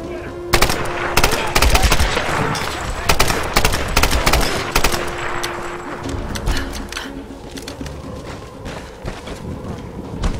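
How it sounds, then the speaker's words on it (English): Rapid SMG fire in Tomb Raider (2013), sustained automatic bursts rattling loudly for several seconds, thinning into scattered shots over a steady background hum. "SMG."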